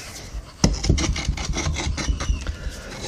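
Moulding sand being rammed into a metal moulding box, a burst of rough scraping and thudding strokes that starts abruptly and repeats rapidly, close and moderately loud with no voices.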